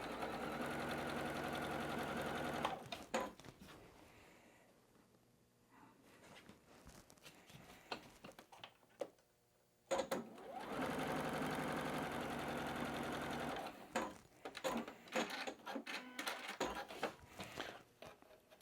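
A domestic sewing machine chain-pieces cotton quilt cornerstones in rapid runs of stitching, a steady close mechanical whir that stops and restarts with pauses of fabric handling and clicks between bursts.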